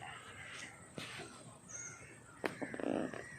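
A few faint crow caws carry across a quiet riverside spot in open grass, with short calls spaced apart against soft background ambience.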